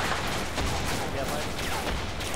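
Dense, continuous battlefield gunfire and heavy artillery in the Arma 2 combat game during a beach landing, with rapid overlapping shots at roughly steady loudness.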